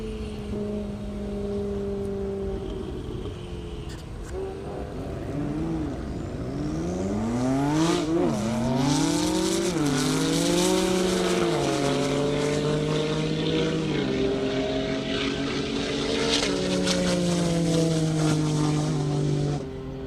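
A Porsche Turbo S and a BMW M5 drag race at an airport, their engines roaring loudly and steadily with rising pitch sweeps and several gear changes over about twenty seconds.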